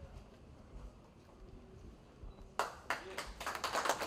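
Applause from the audience at a press meet for a folk and fusion music festival begins partway through, a burst of quick clapping over a faint, murmuring room.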